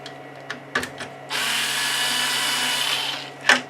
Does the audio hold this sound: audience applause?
no